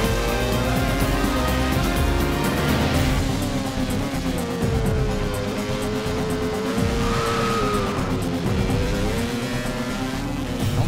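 A 2006 Renault Formula 1 car driven hard by a former rally driver, its engine roaring loud and continuous throughout with shifting revs as it accelerates and brakes through corners.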